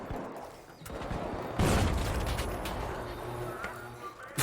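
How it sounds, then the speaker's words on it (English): Gunfire from a gun in the shooter game The Finals, heard as a dense burst of rapid shots that starts partway through and continues amid mechanical clatter, loud and close, with faint voices in the background. "I'm not good at shooting this gun,"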